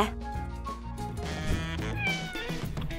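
A cat meows several times in quick succession, drawn-out and whiny, close by with no one speaking.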